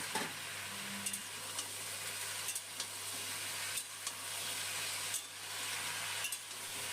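Jackfruit seed vegetable curry frying in a pan, a steady quiet sizzle broken by periodic scraping stirs every second or so, close but low in level, with no talking.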